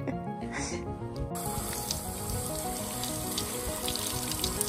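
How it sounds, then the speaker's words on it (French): Hot shower water runs in a steady, hissing spray, dense and continuous, brightening abruptly after the first second as the flow opens fully, with faint voice behind it. "Ah, la douche chaude."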